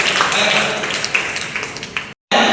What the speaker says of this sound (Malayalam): ഓക്കെ, ഒരു ബിഗ് ക്ലാപ്പ് കൊടുത്തത്.